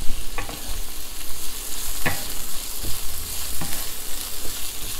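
Szechuan peppercorns sizzle hard in a hot stir-fry pan for a cabbage dish, a loud dense hiss broken by sharp clacks of a utensil scraping and stirring, close up with no talking.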